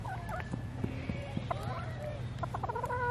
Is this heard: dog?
no